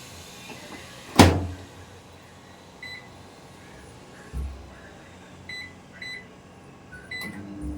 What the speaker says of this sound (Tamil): ஓகே ஸ்டார்ட் பண்ணிட்டேன் இப்போது மைக்ரோ ப்ளஸ் கிரில்லில் டுவெண்ட்டி மினிட்ஸ் நம்ம வச்சுட்டு வச்சிடலாம்